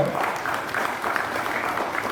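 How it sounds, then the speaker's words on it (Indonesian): Audience at a formal Indonesian gathering applauds, a steady, moderately loud mass of clapping that runs through the whole short stretch, slightly distant. "Fadel Muhammad, tepuk tangan untuk beliau"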